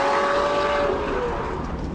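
A Lamborghini Murcielago LP640 accelerates hard, a loud continuous engine roar with a rising then falling tone, close and steady throughout with no voices.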